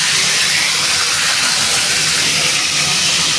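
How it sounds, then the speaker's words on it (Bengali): Fried prawns for a prawn malai curry sizzling in hot oil in a wok, a loud, steady hiss that runs on without a break and with no voices. "চিংড়ি মাছের মালাইকারির জন্য কড়াইতে তেল দিয়েছি, তেলটা গরম হয়ে গেছে।"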